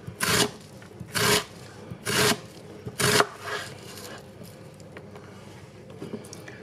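A knife slices through pork chops on a board, four or five distinct rasping strokes in a steady rhythm, close and clear, then trailing off into quieter handling.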